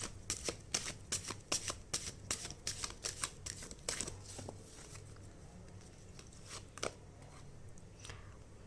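Tarot cards are shuffled with a rapid series of crisp riffling snaps and patters, then a card is drawn with a few softer slides and taps. The handling is close and fairly quiet, with no talking.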